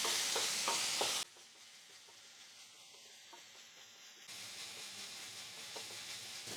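Onion, green chili, ginger and garlic sautéing on a medium flame, with a soft sizzle and stirring that drops out for a few seconds, then comes back at a lower, steady hiss.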